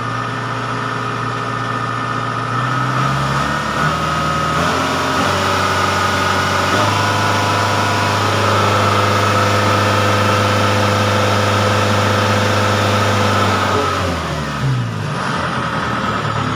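Kubota DC70 combine harvester engine rising from idle to higher rpm, a steady loud drone that shifts pitch a few times as the throttle is pulled up, then drops back near the end.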